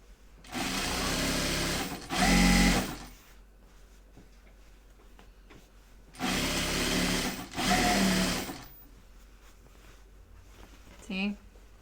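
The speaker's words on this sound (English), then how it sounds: "I just came over to the edge so I can edge stitch" A sewing machine edge stitches a fabric bag near the edge in two loud, steady bursts of whirring stitching a few seconds apart, each a couple of seconds long, with quieter pauses and some talk between runs.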